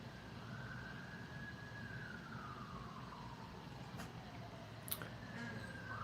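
A faint emergency vehicle siren wails far off across a town, one slow rising and falling tone over low traffic rumble, with a brief clack near the end.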